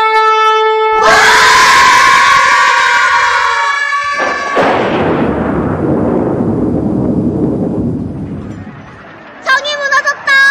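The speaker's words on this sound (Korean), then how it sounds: "성이 무너졌다!" A loud sound effect of city walls collapsing in a children's church stage play: a sustained horn-like blast gives way to a long rumbling crash that slowly fades, with shouting voices at the end.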